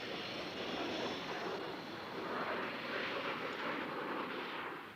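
A Boeing 747 jumbo jet's huge engines give a steady, broad roaring rush that holds at a constant level for several seconds, loud and continuous with no voices.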